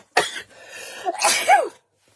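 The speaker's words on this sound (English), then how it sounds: "I was correct, I could feel the sneeze coming." A single loud, close sneeze with a sharp burst, followed by a short breathy trailing exhale.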